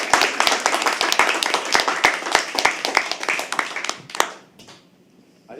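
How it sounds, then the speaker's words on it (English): Audience clapping at a live poetry open mic at the Habitat, a dense round of claps from a modest crowd that thins out and fades to near silence by the end. "Can we please have another round of applause for me?"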